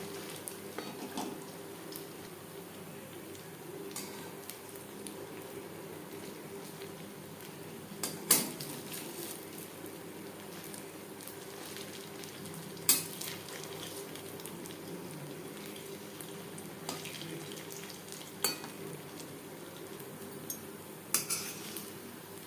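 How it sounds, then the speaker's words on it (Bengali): Soft chhana koftas frying gently in a pan, a faint low sizzle under scattered clinks and knocks of utensils against the pan, with several sharper taps spread through the quiet kitchen sound. "কোপ্তাগুলো খুবই নরম একটু সাবধানে ভাজতে হবে"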